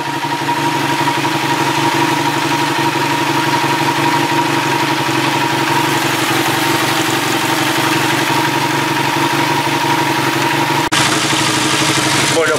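A Yamaha TDM 850 motorcycle engine idles while warming up, a loud, steady, even rumble held throughout, with a brief knock near the end.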